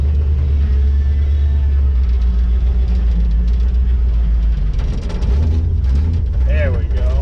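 A J20 engine fitted with Holley Sniper EFI runs with a loud, deep rumbling idle and a few slight revs, close by, while voices talk over it.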